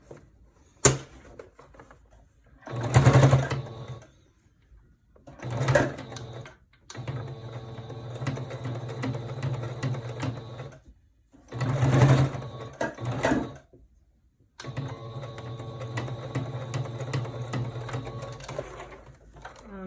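Sewing machine stitching a dart into a fabric face mask, several short bursts of rapid needle clatter separated by pauses, up close, with no talk.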